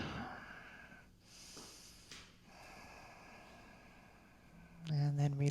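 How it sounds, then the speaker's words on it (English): A slow, deep breath drawn in and released during a gentle yoga session, soft and airy and close by, with a calm voice speaking briefly at the end. "One more deep breath."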